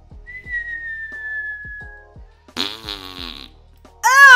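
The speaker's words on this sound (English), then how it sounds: "Did she just fart in her sleep?" Cartoonish fart sound effect in the Roblox Brookhaven video game, a loud buzzing blurt heard twice, following a thin sustained whistling tone and some soft thumps.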